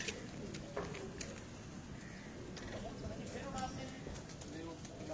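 Pigeons on a rooftop in Lahore, soft cooing under a faint background hum with scattered small clicks and people talking at a distance.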